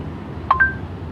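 An Android car tablet dialing a call gives two quick, clear DTMF tones in a row over a low road hum.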